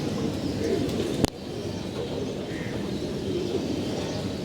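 Pigeons coo softly near a building, arriving one by one, with a steady background hum and a single sharp knock partway through.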